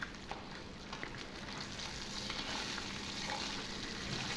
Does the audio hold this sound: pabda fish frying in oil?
yes